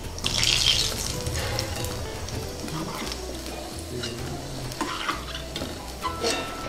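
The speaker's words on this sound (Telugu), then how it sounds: "నెయ్యి వేడెక్కింది, ఇప్పుడు జీడిపప్పులు వేయించుకుందాం." Cashews frying in hot ghee in a pan, a steady bubbling sizzle with stirring scrapes throughout, fairly close.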